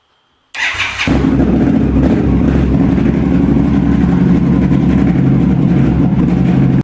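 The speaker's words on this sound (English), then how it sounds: "Now we're going to go ahead and start the motorcycle." Indian Scout motorcycle fitted with a Dobeck Performance Gen 3 fuel controller cranks briefly and fires up, settling into a loud, steady idle rumble close by.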